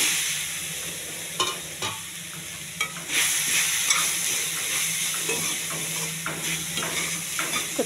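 Brown rice with turmeric stirred in a hot pan for mango rice, a soft steady sizzle close by, with a few spoon scrapes and taps against the pan.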